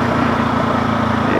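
A Kawasaki Z300 motorcycle engine runs at close range, a steady, loud buzzing drone that holds without break for about a second and a half.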